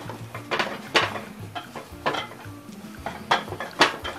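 Dry cornmeal dough being mixed in a pot for akple, a series of loud scraping and clattering strokes of a utensil against the pot in an uneven rhythm, close up and alone.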